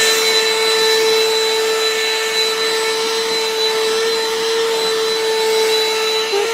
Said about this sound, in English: So pardon me, I'm going to vacuum real quick.